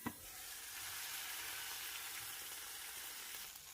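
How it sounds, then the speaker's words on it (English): Jalapeños, garlic, tomato and onion sautéing in oil under a lid for birria, a faint, steady muffled sizzle and hiss after a brief clunk at the start. "I'm just going to saute this really well."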